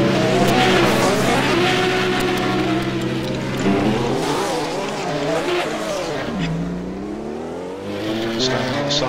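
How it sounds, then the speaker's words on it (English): F1 race car engines roar in a racing video game recreating the 1971 Italian Grand Prix, loud, buzzing, pitch-sweeping whines of several cars shifting up and down, with a brief tire squeal and talk over the top. "it still seems the engines is a little bit loud"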